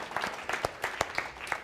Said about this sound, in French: J'aimerais bien qu'on l'applaudisse et que tu te lèves